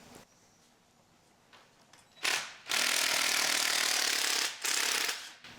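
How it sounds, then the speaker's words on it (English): A gear comes off a Ferguson TO-30 tractor under a power tool in loud mechanical bursts of rapid ratcheting, one short and one long, separated by quieter workshop background. "So we're going to have to pull the gear off first here."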